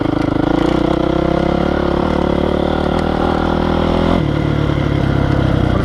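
Honda CRF450R dirt bike ridden on trails, its engine droning loud and close with a steady buzzing tone that shifts pitch as the throttle changes.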